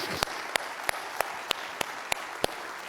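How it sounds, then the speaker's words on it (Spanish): A church congregation claps for God during a sermon, with sharp, evenly spaced claps about three per second cutting through a steady wash of crowd noise. "Dale un fuerte aplauso a Él."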